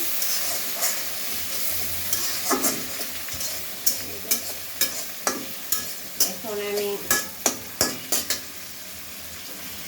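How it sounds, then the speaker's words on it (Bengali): Pangas fish frying in a pan with bottle gourd, a steady near sizzle broken by a run of sharp stirring clinks and scrapes in the second half, with a brief voice at the start. "লাউ পোলা পাঙ্গাসের মাছটা একটু ভাজা ভাজা করবো।"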